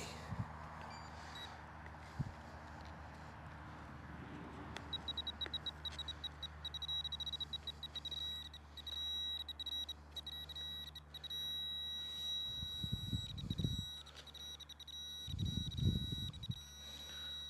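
A steady high electronic tone from a metal detector signal, ringing at 50 on a coin program, runs through most of the clip, with soft handling thumps and low bursts of scraping near the end.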